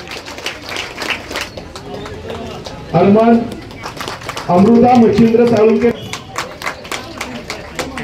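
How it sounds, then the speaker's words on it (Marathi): An audience gathered for a students' results announcement claps in a sparse, rhythmic patter while a speaker reads out names, with the voice rising above the clapping in two stretches. "आणि मुलीसाठी जोरात टाळ्या वाजूयात."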